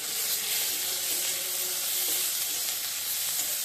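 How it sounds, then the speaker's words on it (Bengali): Tomato hits a hot pan and sizzles, a dense, steady frying hiss that stays loud and even throughout with no voices. "এখন আমি টমেটোটা দিয়ে দেব।"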